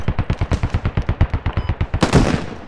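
Rapid automatic gunfire in the military shooter game Squad, a fast even burst of about fifteen close, punchy shots ending in a heavier blast with a short rumbling tail.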